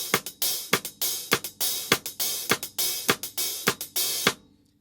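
A drum set played to emulate a worship song's percussion loop without kick drum: bright, crisp cymbal or snare-like hits in a quick repeating pattern, close and alone, ending with a short decay.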